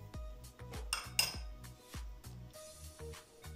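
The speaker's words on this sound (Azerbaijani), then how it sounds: "2 xörək qaşığı şəkər tozudu əlavə edirəm" A metal tablespoon clinks against a bowl as two spoonfuls of powdered sugar go in for a cake-like pie, with about eight close, sharp taps and scrapes in an uneven rhythm and no talking.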